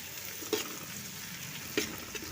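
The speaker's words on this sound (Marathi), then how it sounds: "कांदा भाजायला टाकला" Onion frying in a pan while mutton for a Dhulivandan curry waits nearby, a steady soft sizzle with two brief stirring clatters, close and moderately quiet, no talking.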